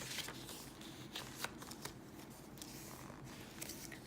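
A small paper bag being handled while flipping through a Harry Potter-themed junk journal gives a dense, close crackle of paper rustling and crinkling, steady for about four seconds with a few sharper crinkles.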